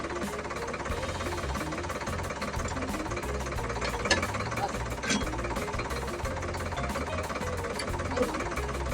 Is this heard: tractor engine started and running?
yes